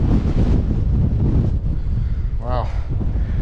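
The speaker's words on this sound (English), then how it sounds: "Pretty damp around here. And exposed, a bit windy." Wind buffets the microphone on a damp, exposed hillside along the Traws Eryri route, a continuous low roaring rush that stays loud throughout, with a brief chirp-like sound near the end.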